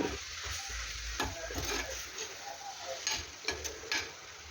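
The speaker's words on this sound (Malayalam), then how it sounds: "ഇനി നന്നായിട്ട് ഒന്ന് ഇളക്കുക" Ponnanganni spinach curry with turmeric being stirred in a hot pan, a steady scraping stir over a soft continuous sizzle with occasional sharper clicks of the spoon against the pan, close and alone.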